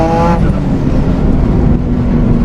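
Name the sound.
turbocharged car accelerating in third gear, turbo spooling up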